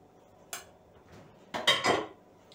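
Dishes and a frying pan clink together in a home kitchen after a batch of potato vareniki is cooked: one sharp knock, then a quick, close cluster of clattering a second later, with no talking.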